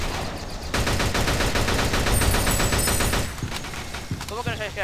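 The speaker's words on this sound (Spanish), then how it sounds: "¿porque me estás disparando?" Rapid, sustained automatic gunfire in the shooter game Shadowgun Deadzone, dense and loud, then breaking into a few separate shots near the end, with a voice speaking over part of it.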